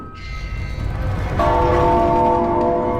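A bell rings in The Room Three puzzle game, a sustained tone that swells louder partway through and rings on steadily over low background rumble.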